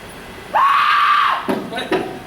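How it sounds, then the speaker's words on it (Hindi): A sharp, shrill scream in a Hindi stage drama rises suddenly and holds for almost a second at close range, then fades into faint room noise and a couple of soft knocks. "अरे ये चीख कैसी?"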